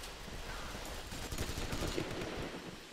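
Rapid bursts of gunfire from a secondary weapon in Red Crucible 2, a quick rattling series of shots at fairly low level against a steady game background.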